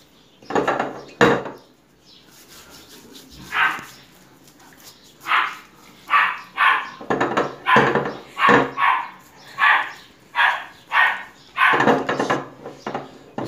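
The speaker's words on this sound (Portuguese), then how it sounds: "Olha só como a gravação tá ficando boa com ele latindo." A two-month-old puppy barks repeatedly in a kitchen, a string of short, high yaps in quick irregular succession, moderately loud and slightly distant, with a couple of knocks near the start.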